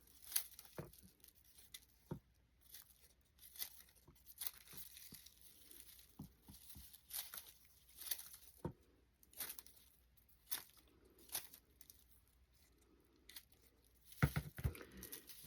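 Raffia being trimmed with scissors while making a pumpkin plaque: a string of quiet, close, dry snips and crinkly rustles with short pauses in between. A slightly louder cluster of cuts comes near the end, and no one talks.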